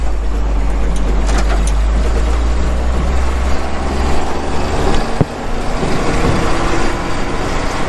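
A vehicle engine pulls away on the road with a steady, loud low rumble throughout, building as it drives off, with a brief knock near the middle and no talking.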